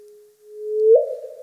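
A single rising synthetic chirp from a gravitational wave signal converted to sound: a steady low tone slowly swells in pitch and loudness, then ends in a brief upward sweep, heard alone.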